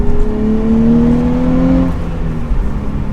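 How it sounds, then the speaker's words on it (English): 2023 Nissan Z sports car with a manual gearbox accelerating from inside the cabin, engine note rising steadily in pitch for about two seconds, then easing off. "So back in the Nissan Z. Yeah, so feeling out that acceleration again."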